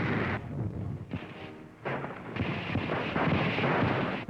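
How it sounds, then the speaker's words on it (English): Tanks and artillery fire in the 1943 North Africa campaign near the Gabès Gap, heard as heavy rumbling blasts and booms in rough succession, with dull roaring between shots. "Tanks and artillery concentrate on the Gabas Gap."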